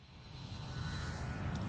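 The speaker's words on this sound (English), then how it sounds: "No, just airplane noises." Airplane noise from the Ace Attorney Spirit of Justice video game forms a steady jet-engine roar that swells slightly, a continuous broadband rumble with a thin whine above it.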